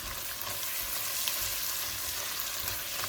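Chopped onions frying over a low flame in a pan for a Kerala-style duck roast, a steady dense sizzle running throughout with soft scraping of occasional stirring, close and alone.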